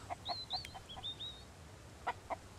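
Chickens clucking in a coop in the video game Mist Survival, soft scattered clucks and short chirpy calls in a quiet scene, several spaced notes with a pair at the end.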